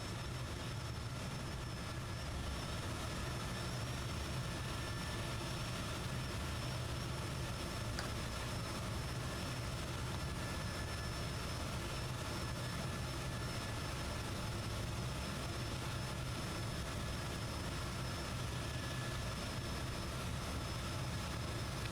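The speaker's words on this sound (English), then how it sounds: "the engines sound a bit squirrely, don't they?" Fokker F28 jet engines in Microsoft Flight Simulator 2024, a steady, unbroken drone with high whining tones above a low rumble, even in loudness throughout and with no talk.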